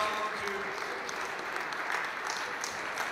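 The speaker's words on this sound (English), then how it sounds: "Big round of applause for the two." A crowd applauds steadily throughout at a Halo 3 match closing ceremony, a dense, even clapping that fills the whole stretch.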